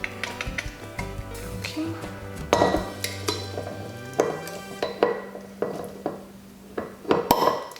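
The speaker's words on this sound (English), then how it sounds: "Getting our corkscrew in." A corkscrew twisting into and drawing the cork from a bottle of Ferllen wine, heard as close clinks, scrapes and squeaks in short bursts, with a brief spoken word in between.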